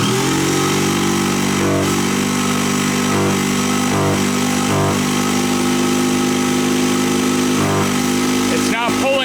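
A 1970s Margay racing kart engine cranking without catching, a loud continuous droning starter churn with rhythmic pulses that never fires up, with voices briefly heard over it.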